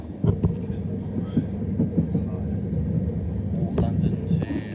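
London Overground train running on rails between Richmond and Stratford as it crosses the Great Western Main Line, a steady low rumble with faint clanks and ticks, continuous throughout.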